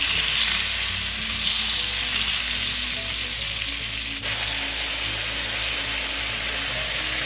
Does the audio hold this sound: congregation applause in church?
no